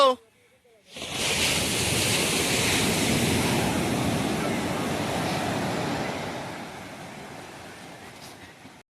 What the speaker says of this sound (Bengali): এসে গেছি আমরা সমুদ্রে